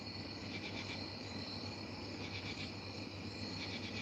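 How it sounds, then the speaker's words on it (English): Crickets chirping in steady pulsing trills outdoors in the evening, a continuous layered insect chorus with no talking, moderately faint and spread around the listener. "I'll just kind of stand out here and listen to the crickets"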